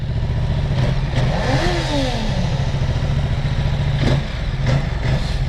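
Ducati Multistrada 950 motorcycle switched on, its engine settling into a steady throbbing idle with a brief rising rev, close and fairly loud throughout.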